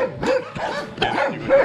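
A dog barks several times in quick succession, close and loud, with short yips and whimpering tones between the barks, heard along a rural roadside during a bicycle trip in Transylvania.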